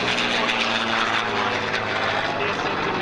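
A World War II warbird, likely a P-40 fighter, passes overhead at an airshow, its piston engine a loud, sustained broadband roar that swells slightly and holds steady throughout.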